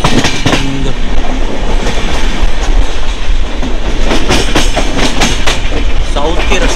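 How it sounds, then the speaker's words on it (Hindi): A double decker train runs along the rails on a journey from Bangalore to Coimbatore, with steady loud rumble and rhythmic clickety-clack of wheels over rail joints throughout. "जस्ट अभी ट्रेन निकली है"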